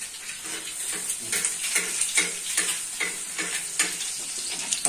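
Black pepper egg frying on a hot tawa, a steady crackling sizzle with rhythmic scraping and stirring strokes, close and moderately loud, no voices.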